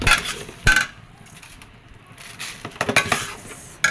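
Jhal suji, a spicy-sweet semolina dish with sugar added, being stirred in a pan, with a few sharp utensil knocks against the metal between softer scraping and a faint sizzle, no voices.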